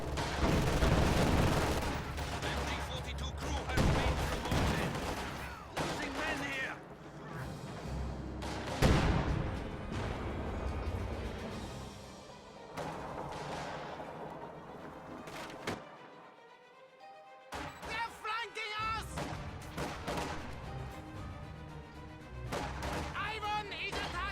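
Gunfire, machine-gun bursts and grenade blasts from a World War II strategy game in which squads advance against MGs and G43 rifles, rapid crackling volleys and booms that come and go in clusters under ongoing commentary.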